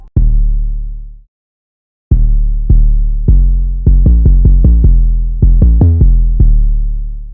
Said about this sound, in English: Now for the 808, I did two different 808 patterns because I didn't want it to be too repetitive.